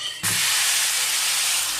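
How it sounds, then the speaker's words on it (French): A steak sizzles loudly in a hot pan after bacon has been cooked, with a sudden burst of broad steady hiss that starts abruptly and holds without letting up. "on fait cuire le steak"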